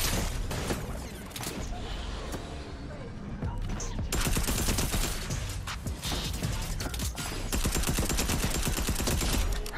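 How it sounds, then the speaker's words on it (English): Rapid grenade launcher fire in Fortnite, a dense run of sharp shots and blasts stacked into a continuous barrage that stays loud across the whole stretch, with brief mechanical clicks and some voice mixed in. "the nade launcher seems alright, I guess"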